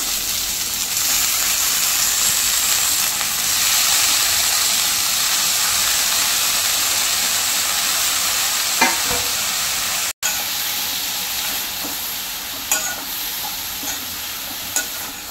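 Freshly chopped fenugreek leaves sauté in hot tempering oil, giving a loud, continuous hissing sizzle with a few faint stirring clicks toward the end and no talking.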